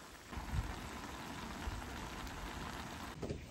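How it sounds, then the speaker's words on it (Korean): Steady rain falls at a campground in Pocheon, a constant soft hiss of drops on surfaces with a few louder patters and thumps, close and even throughout with no talking. "비가 와서 텐트를 옮기고 있어요."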